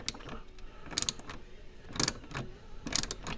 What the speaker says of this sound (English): remove this bolt.